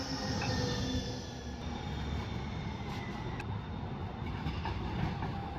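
A Houston light rail train rolls past on Main Street downtown, a steady mid-distance rumble of wheels on track with faint squeals and clicks, no talking.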